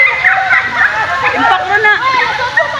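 Strong running water splashing and sloshing, loud and continuous throughout with a rushing, gurgling texture.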